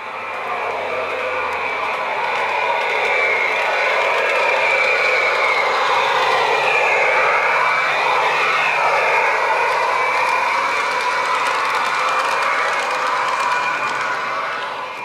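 A Rapido APT-E model train's gas turbine sound spooling up into a steady, loud whine with a rising and shifting tone, sustained throughout with no talking.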